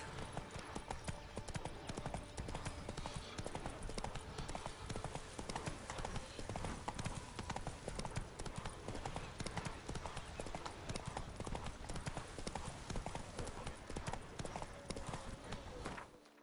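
Horse hooves clop steadily in The Witcher 3: Wild Hunt, a fast, even galloping rhythm of dense repeated thuds that runs throughout at low level and then cuts off, with a voice now and then.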